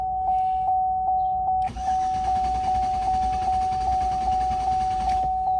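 A Chevy Blazer's starter cranks an engine that won't start. Evenly spaced rhythmic pulses repeat under a constant high tonal whine, and a brief dip breaks the run. It is loud and close, with no speech.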